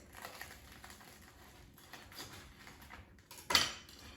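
A knife slicing through an air-fried frozen stromboli with a crispy crust: faint scraping and tapping, then one brief, louder crunch as the blade cuts through, close by with no talk.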